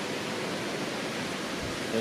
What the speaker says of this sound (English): There's the water. Yep. Waterfall there.